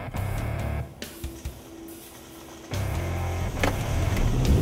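A Land Rover LR2 drives through muddy ruts, its engine droning loud and close with a dip in the middle before rising again, mixed with rumble and splashing noise from the wheels.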